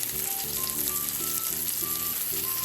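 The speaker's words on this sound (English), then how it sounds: "placed this inside of my pan to sear it on the side to close it up" A chicken and broccoli roulade sears in a hot pan, giving a steady, close sizzle and fry throughout with no talk over it.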